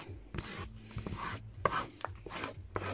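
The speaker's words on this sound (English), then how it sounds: "Put that cardboard underneath the page and rub it." Crayon rubbed back and forth over a paper page laid on a cardboard stencil, giving several near, scratchy bursts of dry friction separated by short pauses.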